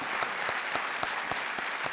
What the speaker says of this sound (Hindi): तालियों के साथ इनका स्वागत।